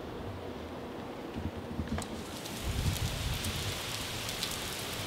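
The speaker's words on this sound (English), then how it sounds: "it just started pouring out of nowhere" Heavy rain pouring down suddenly at an outdoor wedding, a dense steady hiss of drops hitting surfaces that swells louder partway through, with no talking.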